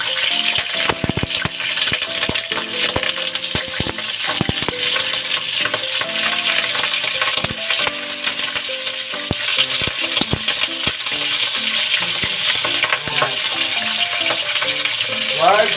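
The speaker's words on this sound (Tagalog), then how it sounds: "Pa-pride lang po natin yung ating liempo." Pork belly (liempo) frying in hot oil in a wok for Taytay, Rizal binagoongan, a steady loud sizzle with frequent clinks and scrapes of a utensil, with background music throughout.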